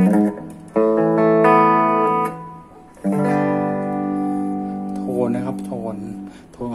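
An electric guitar plays through a Bugera G20 Infinium tube amp with the reverb turned up, giving two sustained chords that ring out and fade, followed by a few shorter notes.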